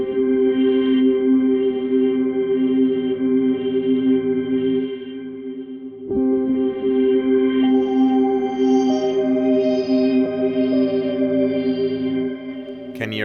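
A sustained synth tone with its harmonics shifting and swirling as their stereo panning moves, processed with chorus and echo, a steady droning pad with upper partials drifting in and out, one brief dropout midway.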